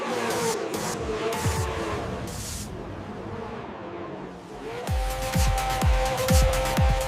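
A 2026 Formula 1 turbo car revs and pulls away on the Bahrain track during preseason testing, engine note rising through rapid gear shifts in a quick series of upward sweeps after a quieter stretch of crowd-like noise.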